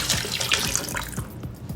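Water and chicken stock poured into a pot of stew, a short burst of splashing, gurgling liquid up close that thins out toward the end.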